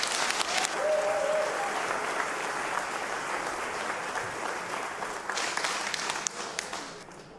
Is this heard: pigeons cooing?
no